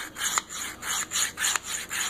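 A knife edge being ground on a Worksharp Field Sharpener, with six or seven steady rasping strokes at an even rhythm, close and clear, with no talking.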